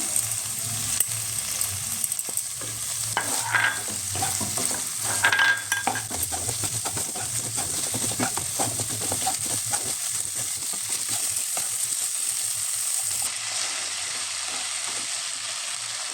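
Ginger garlic paste and chopped green chilli sautéed in a pan for restaurant-style mushroom masala, a steady close sizzle broken by frequent spatula scrapes and stirring knocks, with no speech.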